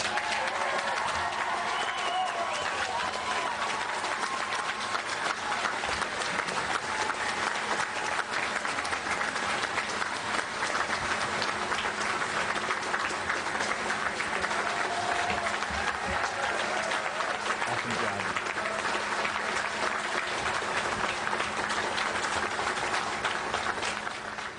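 A large crowd applauds former Congresswoman Gabrielle Giffords at a ceremony for the USS Gabrielle Giffords, with dense, steady clapping and crowd noise that holds without a break throughout.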